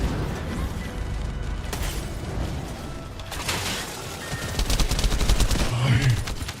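Rapid video game gunfire in The First Descendant, with bursts of shots and mechanical clatter that swell louder toward the end.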